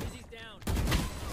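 Gunfire in the Valorant video game: a short burst of shots lands loud and close after a brief quieter stretch, with faint voice chat underneath.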